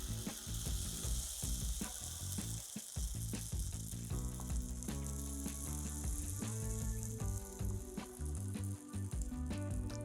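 Spinach banana waffle batter sizzles steadily as it cooks, a continuous crackling hiss with dense clicking and ticking throughout, fairly close and without talk.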